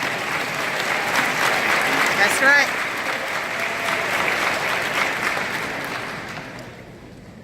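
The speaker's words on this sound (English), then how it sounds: "you guys need to be clapping" Audience clapping at a motivational talk, a broad sustained wash of many hands that swells slightly and then fades toward the end, with a few voices calling out over it.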